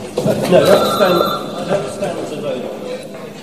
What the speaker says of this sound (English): The telephone never stopped ringing.